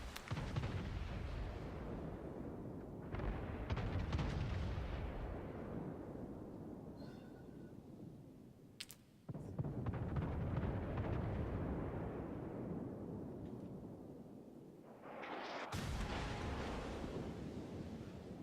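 Heavy naval gunfire from a Bismarck battleship in the World of Warships video game, booming in broad rumbling blasts that roll over constant engine and sea noise, with a sharp crack near nine seconds and another heavy salvo near sixteen.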